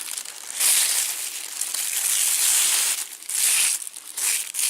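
Plastic bag yarn crinkling as it is worked with a crochet hook, close-up rustling and crackling in irregular bursts with brief quieter gaps, no voices over it.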